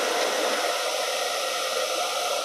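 Heat dryer running steadily and fairly loud while drying a craft piece about to be mounted on a card, a continuous broadband whoosh with no pauses and no voices.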